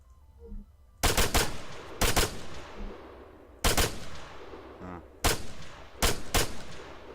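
Gunshots fired at a shooting range in the ARMA 3 video game: several loud, sharp bursts of two or three rapid shots each, spaced a second or so apart, with a faint hum between them and no talking.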